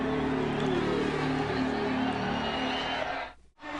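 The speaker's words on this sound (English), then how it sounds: "capacity crowd here in Las Vegas, Nevada, on their feet" A capacity crowd on its feet at a 1997 AMA Supercross round in Las Vegas, Nevada, a dense, steady roar of cheering and babble that fills the whole stretch, then dips sharply near the end.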